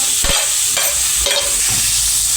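Chicken gizzards sautéing in hot ghee in a pan, a loud close sizzle broken by a few spatula strokes scraping and tossing, with no voices.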